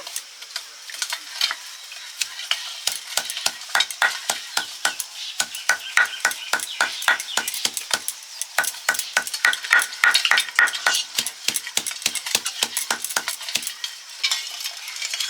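Durva grass being crushed by hand, a rapid run of sharp, rhythmic pounding strikes, fairly close and steady with short pauses, no talking.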